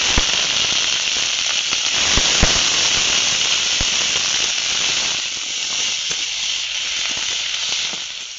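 Cut potatoes fry with onion and green chili in a pan, giving a steady, close crackling sizzle broken by sharp little pops and spits.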